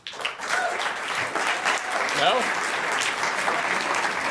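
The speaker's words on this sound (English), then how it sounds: "please accept the applause that we're going to give you" Steady audience applause at a tennis hall of fame event, fairly close and continuous for several seconds, with voices talking over it.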